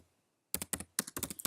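Fast keystrokes tapped on a computer keyboard, close and clear in quick bursts after a short silence.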